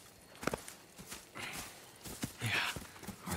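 Horse hooves clip-clop at a walking pace in the Red Dead Redemption 2 video game, a few uneven, fairly close thuds over a soft background hum.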